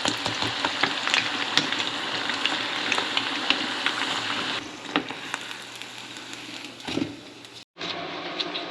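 Steady, loud sizzling and crackling of chicken pieces double frying in hot oil, with bursts of popping and a brief stir or clatter near the end.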